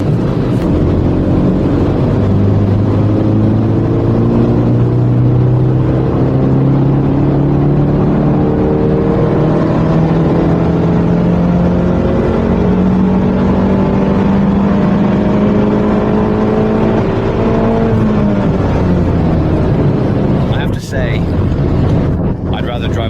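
BMW 120i with Stage 1 tuning revving on a dyno test bench: one long, loud engine pull whose pitch climbs steadily for about eighteen seconds, then drops off as the throttle closes.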